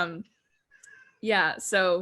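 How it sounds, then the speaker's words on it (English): A pet cat meows twice in quick succession, clear, drawn-out cries close to the microphone, following a brief bit of a man's speech. "Excuse me if you hear my cat in the background"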